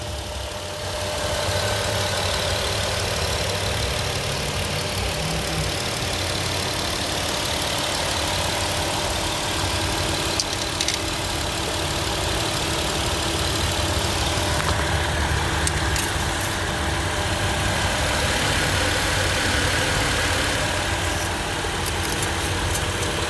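A 2010 Chrysler Town & Country minivan's 3.8L V6 idles smoothly under the hood, a soft, constant hum. A few faint clicks come and go over the steady running, and there is no talking.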